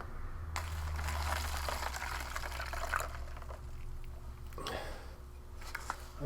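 Water, 180 ml, poured into a Turkish Dardanel civilian ration pouch of tuna, beans, salad and rice, a steady close liquid rush running for several seconds with a few small handling knocks.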